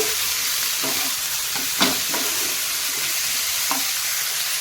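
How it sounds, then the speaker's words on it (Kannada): Corn chaat is stirred and fried in a pan over a high gas flame, giving a continuous bright sizzle broken by several scraping stirs of the spoon. It is close and there is no talk. "ಈಗ ಗ್ಯಾಸನ್ನು ಹೈ ಫ್ಲೇಮ್ ಇಟ್ಕೊಳ್ಳಿ ಮಿಕ್ಸ್ ಮಾಡ್ಕೊಂಬಿಡಿ ಎಲ್ಲವನ್ನು ಹೊಂದೋ ರೀತಿ"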